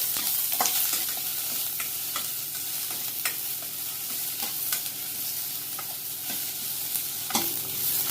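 Green chillies fry in hot oil alongside ginger in a pan, making a continuous sizzle broken by repeated scraping clicks of stirring at an uneven rhythm, close and moderately loud with no talking.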